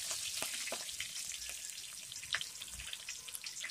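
Mustard seeds and curry leaves fry in hot oil for a potato and capsicum masala, a steady close sizzle with scattered pops and crackles throughout.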